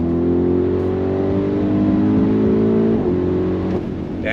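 A 2022 Audi RS Q8 performance SUV accelerates hard on throttle, a loud close engine note rising steadily in pitch, heard from inside with no talking.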